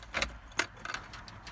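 Keys jangle close by in a few quick metallic shakes beside a 1982 Toyota 4x4 pickup, with light background rumble.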